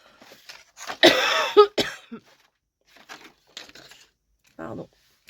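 A person coughs harshly a few times up close, then quieter throat noises and short murmurs follow in an otherwise quiet room.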